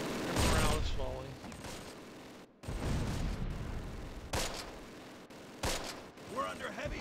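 Gunfire in the Close Combat war video game: dense bursts of rifle and machine-gun fire with heavy impacts, loud and continuous, with voices speaking briefly among the shots.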